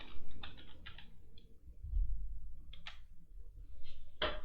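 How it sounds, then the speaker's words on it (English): A computer keyboard is typed on in short, soft bursts of clicking keystrokes, close by and quiet against a low background rumble, with no talking. "Now type composer."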